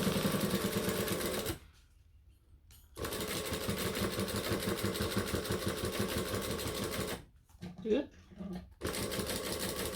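Sewing machine running near and loud in long bursts of stitching broken by short pauses, working a date-night clutch with forward stitching, back stitching and top stitching while a person talks throughout.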